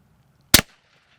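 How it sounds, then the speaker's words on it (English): A single sharp report from a Glock 21 .45 caliber handgun fitted with an Obsidian suppressor, one short crack with a brief tail, close by and alone. "This is a Glock 21 45 caliber handgun wearing an Obsidian for"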